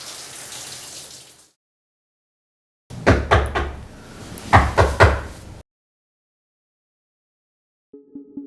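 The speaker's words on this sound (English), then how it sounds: "When I heard the knock on the door" Two bursts of sharp knocking on a door, several quick raps each, fairly close, separated by silence, with a faint low hum at the end.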